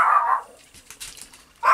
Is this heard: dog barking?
yes